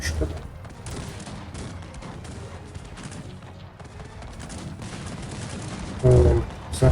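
Dense, crackling gunfire from the game Cossacks 3 rattles on continuously in rapid bursts, with a heavier burst near the end and a voice faintly underneath.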